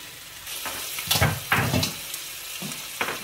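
Beef stew simmering in a saucepan gives a soft, steady sizzle and bubbling, with a few louder stirring bursts partway through. No voices are heard.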